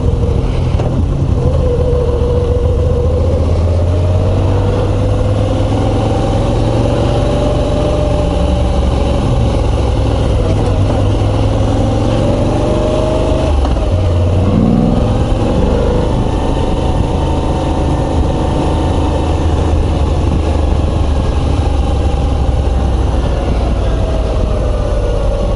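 A 2022 Moto Guzzi V85 TT Travel motorcycle engine drones steadily at low revs while riding, a deep continuous rumble with slowly shifting pitch under constant wind noise, loud and close for the whole stretch.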